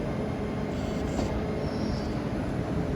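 A Hull Trains class 802 passes through Doncaster station with a steady, broad rumble that holds at an even level throughout, along with a faint high whine and no voices.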